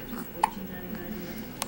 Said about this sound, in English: Your first hiccups, girl.